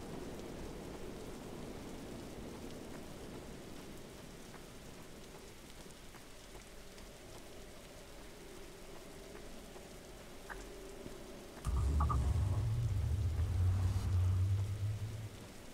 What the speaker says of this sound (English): then it started raining.